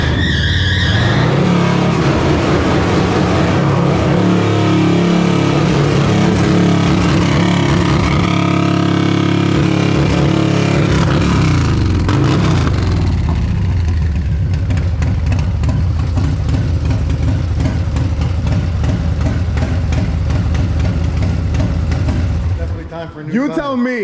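A Harley-Davidson Low Rider S fitted with a 122 Screaming Eagle stage 3 engine runs loud and close throughout, its rumble holding steady then rising and falling in revs, with people talking over it.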